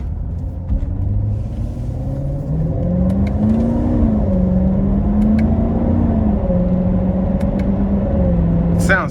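A 2017 Chevrolet Corvette C7 Grand Sport driving in tour mode, its V8 engine droning loudly and steadily from inside the cabin with slight rises and falls in pitch as it cruises, faint clicks on top.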